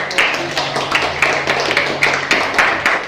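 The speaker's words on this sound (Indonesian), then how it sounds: "kita berikan tepuk tangan untuk kelompok" A classroom group claps together for a team of students, a quick run of evenly spaced, sharp claps in a steady rhythm, close and fairly loud in a small room.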